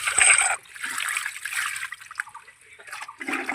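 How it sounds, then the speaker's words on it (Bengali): Fresh pond fish being rinsed by hand in water, with splashing and trickling that come in uneven bursts and short pauses, close up. "বন্ধুরা মাছগুলো ভালো করে পরিষ্কার করে নিচ্ছি।"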